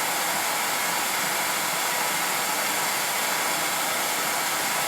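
A torch heats hard metal blades to cherry red to soften them, producing a constant, loud, close hissing roar with no break.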